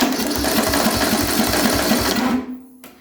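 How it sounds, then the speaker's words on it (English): A worn-sounding car starter motor cranking the engine, a fast rhythmic whirring churn held loud and close for over two seconds, then cutting off abruptly into near silence. "you can hear that starter"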